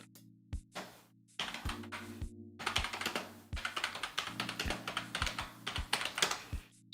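Bursts of computer keyboard typing, close and crisp, starting with a few isolated key taps and then settling into steady, rapid clatter, with no voices present.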